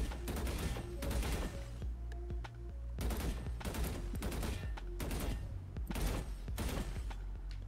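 Bursts of rapid gunfire in a shooter video game come in several sharp, loud volleys separated by brief pauses, close and dominant.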